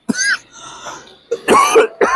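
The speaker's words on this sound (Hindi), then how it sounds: "देखो हमको भी खांसी आ रही" Several harsh coughs from one person nearby, a short burst at the start followed by a tight cluster of rough coughs near the end, with no talking.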